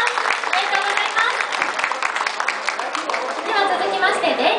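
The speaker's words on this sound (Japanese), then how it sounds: "皆様大きな拍手をお願いいたします" A crowd claps for the winner at a prize ceremony after the Daily Sports Cup race at Funabashi Auto. The applause is loud and sustained for several seconds, with a voice talking over it.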